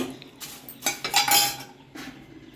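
A metal spoon scrapes and clinks in a pan as dried red chillies and sun-dried curry leaves are dry-roasted and stirred, in short bursts of rattling and scraping with quiet gaps between.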